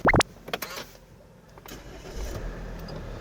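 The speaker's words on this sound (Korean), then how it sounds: "바로 시동 한번 걸어서 확인 도와드릴게요." An imported full-time four-wheel-drive SUV starts with a sharp starter whine and a quick catch, then settles into a low, quiet idle close by.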